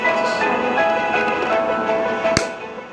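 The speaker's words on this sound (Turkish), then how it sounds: "Şimdi bakın klik sesi gelecek onu da duyuyorsunuz" One sharp mechanical click from the mechanism of a Subea Easybreath full-face snorkel mask cuts through a steady background hiss, brief and fairly close.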